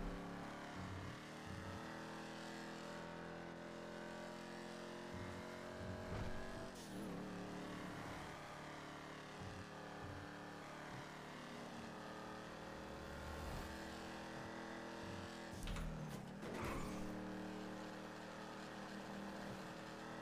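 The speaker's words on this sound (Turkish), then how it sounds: "Araba max bu hızda gidiyor." A badly damaged car driving in a video game, its engine droning at a steady, limited top speed, with a continuous loud hum broken by a couple of brief louder bursts.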